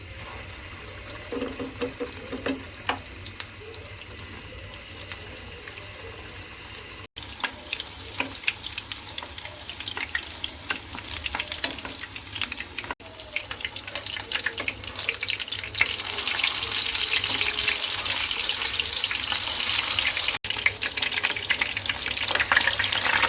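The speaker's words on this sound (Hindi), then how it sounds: "मीडियम टू लो फ्लेम पर शैलो फ्राई करेंगे। ऑयल गर्म हो चुका है।" Chapli kababs shallow-fry in hot oil over a medium-to-low flame, a continuous close crackling sizzle that grows slightly louder and denser toward the end, with no talking.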